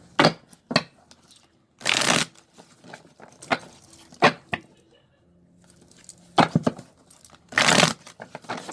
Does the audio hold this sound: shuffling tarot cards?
yes